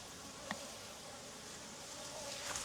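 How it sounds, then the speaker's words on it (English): Honeybees buzz around an open hive in an outyard in Jacksonville, Florida: a steady, moderately quiet drone with individual bees zipping close past now and then. "Lots of bees coming."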